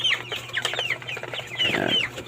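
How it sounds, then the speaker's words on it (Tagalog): Several 26-day-old broiler chickens cluck and chatter close by in a steady, busy stream of short calls, with a low hum underneath. "Ito po 26 days old broiler chicken."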